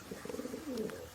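A pigeon gives a short, soft cooing call, a few low throaty pulses ending in a longer rolling coo, close and quiet while held in the hand.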